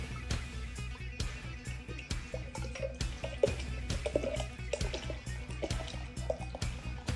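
Beer poured from an 18-ounce 1996 Coors Light bottle shaped like a baseball bat, a steady close trickle and glugging of liquid into a glass with small drips throughout, no talking.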